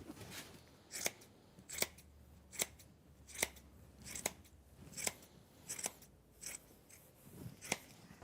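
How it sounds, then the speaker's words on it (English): Sharp scissors snip through upholstery material during an interior install, about ten crisp cuts in a steady rhythm roughly every three-quarters of a second, close and clear with no talking. "I'm just using a pair of really nice scissors to"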